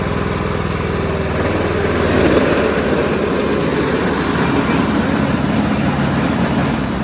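Cub Cadet LTX1045 lawn tractor engine running steadily close by, a loud constant droning rumble that rises slightly around the midpoint and then holds.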